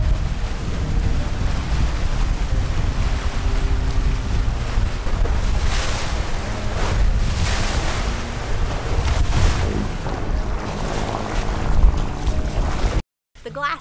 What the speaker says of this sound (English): I really didn't expect this boat to sail that fast.